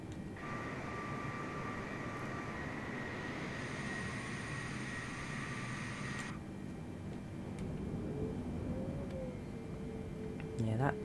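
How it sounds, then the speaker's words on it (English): Engines of a KLM Boeing 747 taxiing in Microsoft Flight Simulator, a steady low rumble with a whining tone that cuts off partway, while someone talks over it. "So I'll put a little more throttle on the left engines, reduce the right throttle, and just kind of balance it out as we taxi to the runway."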